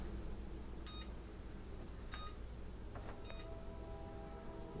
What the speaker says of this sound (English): So let's set the timer again.